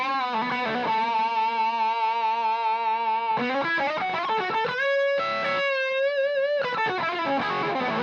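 An electric guitar runs through two stacked overdrive pedals, giving a thick, saturated, distorted tone. Steady loud chords and single-note runs play throughout with no speech.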